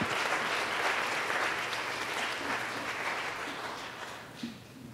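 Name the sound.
church audience applause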